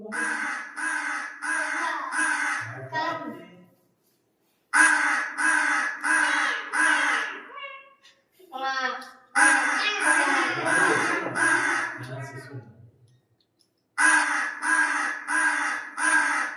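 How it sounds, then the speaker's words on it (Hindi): Repeated harsh crow caws in loud bursts of three or four, separated by short pauses, with a few softer croaks in between; no talking. "कौवे की आवाज है।"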